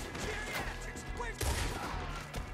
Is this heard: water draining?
no